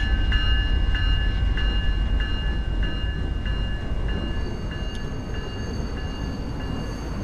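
A Seattle Wave train stands at a station in the railway video game Rails Unlimited Classic. A steady loud rumble runs under a sustained horn-like tone, with soft clicks repeating at an even rhythm.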